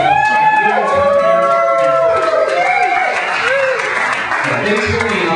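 A comedy club audience applauds a stand-up comedian at a comedy night, sustained loud clapping with crowd noise and a few cheers filling the whole stretch, fading slightly toward the end.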